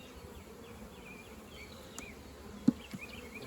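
Honey bees around a hive during a swarm catch and split make a faint, steady buzz in quiet open air, with a few soft clicks and a brief sharp tap near the end.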